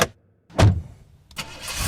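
A car starts and drives away as a horror audio-drama sound effect, heard as a few loud engine bursts separated by short silences, then a steady rising rumble as it pulls off.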